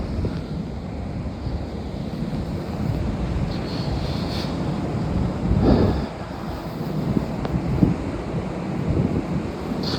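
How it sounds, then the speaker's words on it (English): Wind and ocean waves on a beach at night, a steady broadband roar with surf swelling and breaking in a rolling, continuous wash, buffeting wind noise close on the microphone. "listen to those waves"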